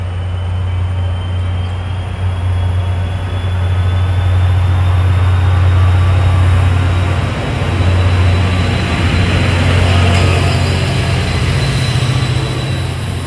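An NJ Transit General Motors diesel train rolls past near Secaucus/Rutherford, New Jersey, with a loud, steady low engine drone and rumbling wheels lasting throughout, its pitch shifting slightly as it passes, no voices.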